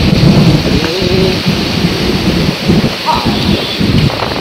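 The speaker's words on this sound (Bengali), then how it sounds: "বাপ রে কি ভয়ঙ্কর ঝড়" A fierce thunderstorm with heavy wind-driven rain, a loud dense roar with low rumbling and gusts buffeting the microphone throughout.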